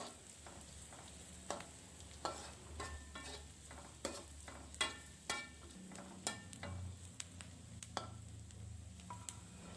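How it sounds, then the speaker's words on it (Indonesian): Shallots sauté in a pan with a faint, soft sizzle, punctuated by regular light clicks and scrapes from a utensil stirring them, quiet and fairly close, with no voices. "Lalu tumis bawang merahnya ini sampai setengah matang juga"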